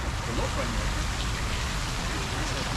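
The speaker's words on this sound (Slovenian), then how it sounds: "Posod voda teče." Water running and trickling everywhere around a cave on black-sand shores near Papeete, a steady, dense splashing wash that fills the whole moment without letting up.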